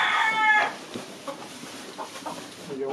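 Hen and turkey clucking on a rural farm, a loud burst of fowl calls at the start, then scattered softer clucks and squawks against a busy outdoor background.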